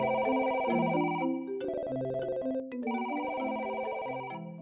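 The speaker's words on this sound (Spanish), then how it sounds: "todos los teléfonos de la oficina comenzaron a sonar al mismo tiempo" Several office telephones ring together in layered electronic trilling bells, loud and continuous with short overlapping gaps, no voices over them.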